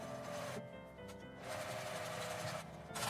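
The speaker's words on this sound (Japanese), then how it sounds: "ミシンはこう開いて片方ずつかけます。" A sewing machine stitching the top edge of a lined round drawstring bag made from fabric scraps, running in a close, quiet mechanical whir with brief pauses between bursts of stitching, with no voices.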